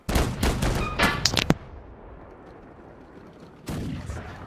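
Ship cannons firing in a naval battle in Holdfast Nations at War, with the HMS Revenge involved: a rapid cluster of loud booming blasts, then a rumbling lull and another heavy blast at the end.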